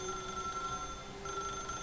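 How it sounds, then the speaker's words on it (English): A telephone rings steadily in The Stanley Parable video game, an electronic tone held at an even level with a brief drop before it resumes, alone and fairly clear. "Está el teléfono sonando"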